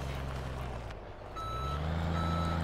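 A truck in Farming Simulator 17 backs up in heavy snow, its reversing alarm beeping steadily over a low idling engine rumble, with no voices.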